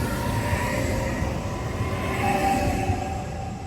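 Steady rumble and rattle of a passenger train riding the short coastal line between Cinque Terre villages, continuous and fairly loud with no talk.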